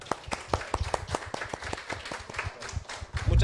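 Scattered applause for a speaker at a medical round-table session, with a few distinct claps standing out in a quiet room before the clapping softens.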